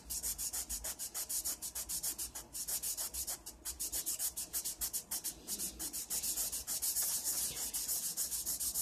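Aluminum is wet-sanded by hand with sandpaper in quick, steady back-and-forth strokes, a close, soft rhythmic scrubbing with brief pauses between runs.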